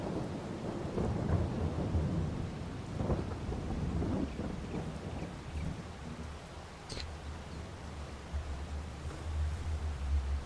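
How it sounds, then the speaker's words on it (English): Rain falls on a September day over farm fields while thunder rumbles low and long, a steady wash of rain with deep rolling swells and a faint low hum beneath. "Rainy day in September."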